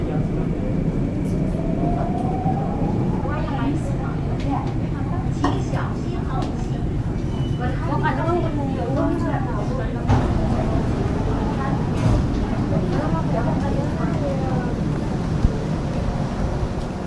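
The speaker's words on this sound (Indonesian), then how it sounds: "Dan kebetulan keretanya sudah datang, jadi kita langsung naik." Singapore MRT train ride from Changi towards Chinatown, heard from inside the carriage as a continuous loud rumbling roar with rising and falling whines, while people speak faintly over it.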